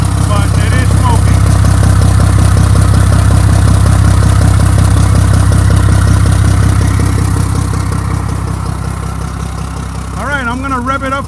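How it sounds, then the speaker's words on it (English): A 2007 Mack MR688S roll-on roll-off truck's diesel engine runs loud and close, holding a steady idle before the revs swell and drop near the end. "I'm gonna rev it up for you."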